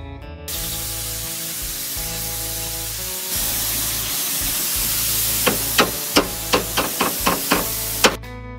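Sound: paint sprayer spraying paint on lattices

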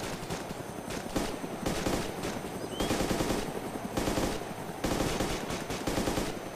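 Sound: gunfire in video game ARMA 2 DayZ

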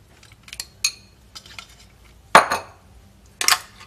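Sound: grilled goat satay being put into the sauce in a dish

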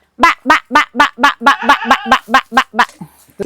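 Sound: duck quacking

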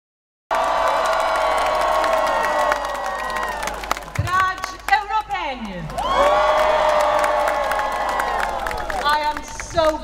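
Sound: large crowd cheering at a rally in Chisinau

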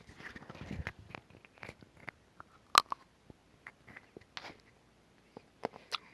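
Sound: eating white and milk chocolate

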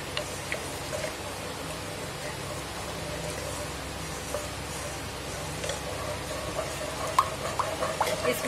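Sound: white sauce with milk starting to boil in pan

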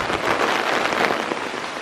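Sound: heavy rain falling at a reclamation yard

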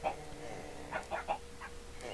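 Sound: chickens clucking in video game Minecraft

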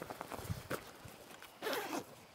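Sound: zipper of Mountain Hardwear Fluid 18 daypack inner pocket

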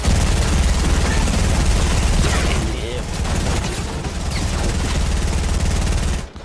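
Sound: hand cannon gunfire in video game

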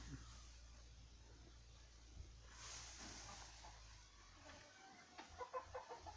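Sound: chickens

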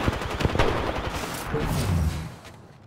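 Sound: gunfire in Apex Legends video game

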